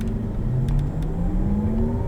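A 2020 Porsche Taycan Turbo S electric car on the move, heard from inside as a steady road rumble with a rising electric motor whine that climbs in pitch as it accelerates.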